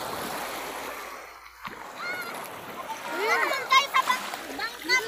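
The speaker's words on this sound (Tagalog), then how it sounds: "Maririnig po natin yung mga hampas ng alon." Sea waves break and wash along a beach in Batangas during a family outing, a soft continuous splashing roar heard under nearby voices, with people talking over it throughout.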